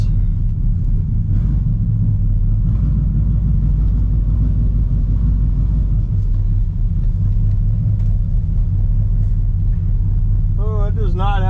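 A 1960 Pontiac Bonneville barn-find convertible idles with a deep, loud engine rumble as it is put into reverse, steady and close, with faint talk near the end.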